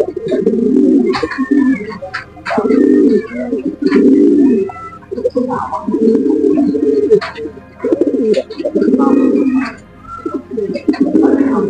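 Kaldom pigeons in a paired loft coo in repeated low, throaty bursts, several calls overlapping at close range and fairly loud, with brief pauses between phrases and no talking.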